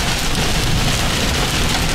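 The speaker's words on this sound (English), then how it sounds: "Pop through the rain here any second." Heavy rain pelts a storm chasing vehicle punching through a hail sheath near a tornado, a loud, steady, dense roar of drops drumming on the body and windshield without a break.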